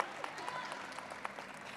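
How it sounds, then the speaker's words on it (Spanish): Audience applause at a panel discussion on aesthetics and anti-racism in Afro-descendant art practices, greeting a dancer and choreographer as she is introduced. The clapping is steady, moderate and fairly distant, with a few sharper claps standing out. "Aplauso, por favor."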